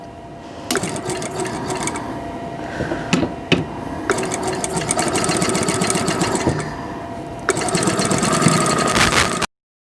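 A sewing machine runs in close, loud bursts while sewing a quilt block, its steady whirring hum stopping briefly between seams, with small clicks during the pauses.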